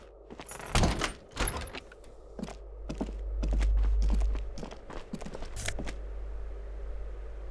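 A door being shut in the detective game Disco Elysium, with clacking footsteps and rattling knocks leading into a low, rumbling thud, close and fairly loud with no talking.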